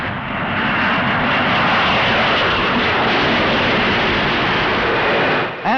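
Red Arrows jet aircraft flying in formation, a loud sustained roar that fills the whole clip, steady and broad with no voices, fading out right at the end.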